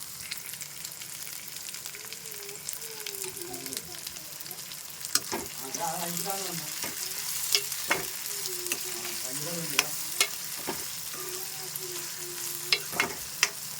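Pieces of spiny bitter gourd (boda kakarakaya) fry in oil with a continuous close sizzle, broken by periodic sharp clacks of a spatula stirring the pan, while a voice speaks faintly in the background.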